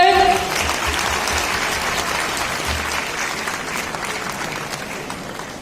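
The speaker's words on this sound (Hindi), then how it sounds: "एक बार जोरदार तालियां हो जाए यहां पर।" An audience claps loudly at a Shri Ramotsav event at GL Bajaj College. The dense applause is sustained and fades slightly toward the end.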